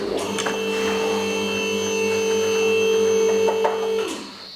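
Car hoist lifting a Ford Falcon, a steady loud electric motor hum with a sustained tonal whine running about four seconds before winding down and stopping, with faint clunks along the way.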